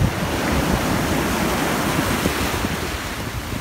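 Sea waves break continuously on the shore at Karaburun beach, a dense, loud wash of surf mixed with wind buffeting the microphone, with no voices.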